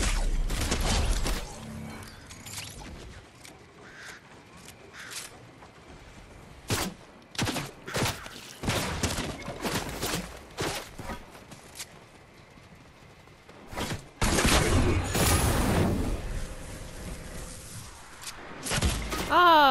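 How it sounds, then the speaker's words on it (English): Video game gunfire from another player comes as scattered single shots and rapid clusters, some sharp and close, others dull and distant, with quiet gaps between them and occasional faint voices underneath. "Somebody else is shooting."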